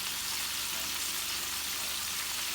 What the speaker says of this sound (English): while that is simmering and cooking up a little bit